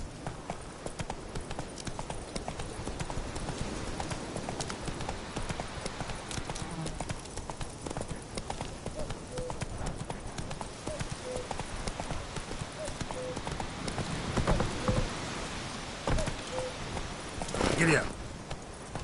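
Horse hooves clip-clop steadily at a walk throughout, fairly close, with occasional speech over the rhythmic hoofbeats.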